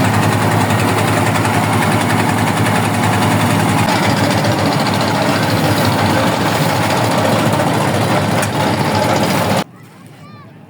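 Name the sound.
boat engine among rows of tourist boats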